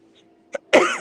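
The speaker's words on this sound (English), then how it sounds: "Sorry, I have a bit of a cough." A single short throat sound followed by one loud, close cough, with faint background hum before it.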